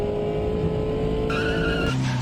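Several cars crash together on a racing video game's circuit, a loud continuous roar of engines and screeching, skidding tires that shifts pitch abruptly as the pileup unfolds.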